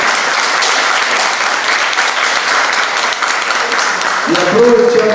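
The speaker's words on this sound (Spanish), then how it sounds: "también les pido un fuerte aplauso para la maestra Marcela Rojas Valero" Sustained audience applause at a lecture on Helia Bravo in Mexico, a steady dense wash of clapping from a crowd with a brief voice near the end.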